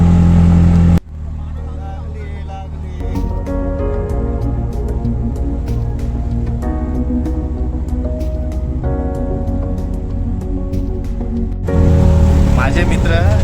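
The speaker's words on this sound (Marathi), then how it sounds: "तर रिक्षात चाललोय." Steady engine drone and road rumble from inside a moving auto rickshaw, with a broad low hum running continuously and brief louder bursts at the start and end, no clear talk over it.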